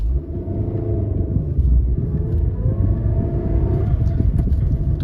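A Maruti Suzuki Dzire Tour S running on CNG accelerates from a standstill. The engine drones steadily and climbs through the gears, with rising whine tones under a constant close rumble of the cabin.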